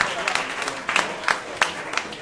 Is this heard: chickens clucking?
no